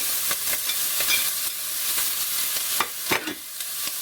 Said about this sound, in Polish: I to tutaj się już będzie smażyło